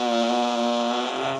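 Recorded human fart played back from a soundboard: one sustained, steady buzzing tone lasting over a second, loud and close, alone with no talk.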